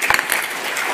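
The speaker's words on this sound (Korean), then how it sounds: "박수 한번 해요" Brief burst of audience applause in a hall, dense and loud clapping from many hands lasting about a second, with no voice over it.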